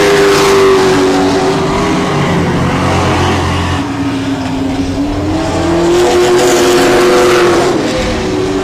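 Race cars lap the I-37 Speedway oval with a continuous, loud engine drone that rises and falls in pitch as the cars pass and circle the track, without commentary.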